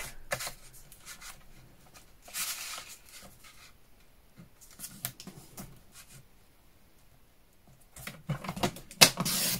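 Paper being cut to 24 cm for a stamp-themed folio, giving quiet bursts of scraping and slicing spread through a mostly hushed stretch, with a louder cluster of cuts near the end.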